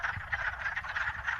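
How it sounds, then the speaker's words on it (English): A chorus of wood frogs croaks in a wetland, many overlapping clucking calls pulsing in a steady rhythm, loud and close with no voices. "these wood frogs who gave this symphony a few days ago"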